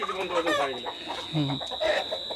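Tiger-breed chickens, five months old, cluck and murmur close by on a poultry farm, several short calls overlapping with a steady high-pitched hum in the background.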